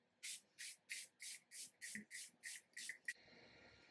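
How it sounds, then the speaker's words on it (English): Nine quick pumps of a makeup setting spray bottle in a steady rhythm, each a short airy hiss, close by, followed by a softer lingering hiss. "This has been the setting spray of the summer."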